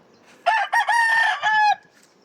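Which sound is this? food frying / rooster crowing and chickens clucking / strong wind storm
rooster crowing and chickens clucking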